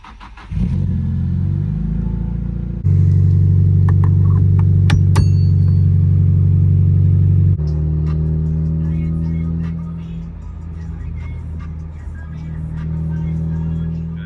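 Nissan S15 engine running steadily with a deep low drone, the revs rising and holding, then settling and shifting pitch as the car drives on a test run, loud and close, with no talk over it.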